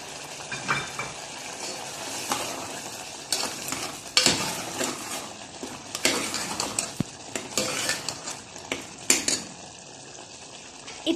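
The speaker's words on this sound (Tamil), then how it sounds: "உப்பு, மிளகாத்தூள், அப்புறம் பிரியாணி மசாலாவை இதில் போட்டுடலாம். போட்டு நல்லா வதக்கிக்கோங்க." A spoon stirs and scrapes mutton sautéing with salt, chili powder and biryani masala in a pot, with irregular metallic clinks and scrapes over a soft steady sizzle, close and fairly loud.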